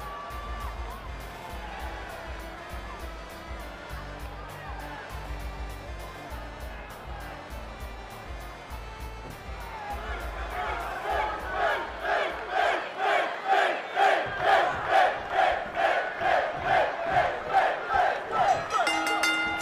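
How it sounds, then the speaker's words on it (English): A large arena crowd in the video game WWE 2K20 roars steadily during a wrestling match, swelling louder and pulsing with rhythmic chanting toward the end, with no clear talk over it. "Would you listen to this crowd?"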